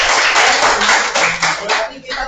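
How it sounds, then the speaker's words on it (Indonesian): A classroom of students claps together in a dense, steady burst of applause that stays loud for a couple of seconds before briefly dipping and picking up again, with voices mixed in. "Oke, tepuk tangan dulu untuk semuanya."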